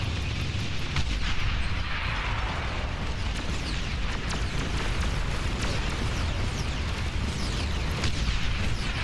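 Explosion in a video game during a commander fight-night match, a loud sustained rumbling blast that fills the whole stretch with dense booming noise, no talk over it.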